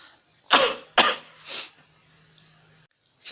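Three close, harsh coughs in quick succession from one person, loud and near, followed by a quieter breathy trailing sound.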